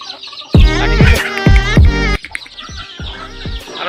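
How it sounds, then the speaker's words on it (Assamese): Chickens at a village home give short clucks and calls, several bursts close by and fairly loud, spaced irregularly across the moment. "এইকেইটা মুৰ্গী কেইটামান"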